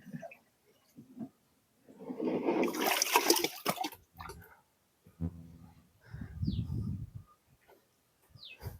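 Water flows into a channel in a farm field, coming in faint gushing bursts separated by quiet gaps, with a few soft bird-like chirps.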